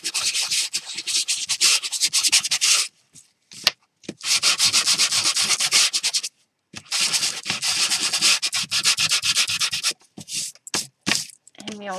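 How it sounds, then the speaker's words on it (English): Sandpaper rubbing roughly over an artificial tree surface, heard as close, loud scratchy strokes in long bursts broken by short silent pauses, with some faint talk in the background. "you want to rough up as much of the tree surface as you can"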